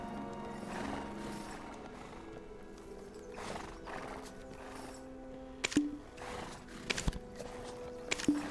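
Horse in the game Black Desert Online, snorting and neighing at middle distance over a soft ambient bed, with sharp clip-clop hoof strikes landing in quick clusters toward the end.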